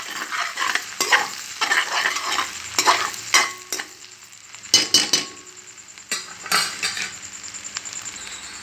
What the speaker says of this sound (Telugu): ఆనియన్స్ వేసుకొని కలుపుకోవాలండి